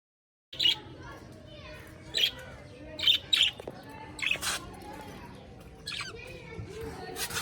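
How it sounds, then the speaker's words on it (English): Baby parrots squawk in short, sharp bursts, several calls spaced across a few seconds over a steady background murmur. "There are some baby parrots."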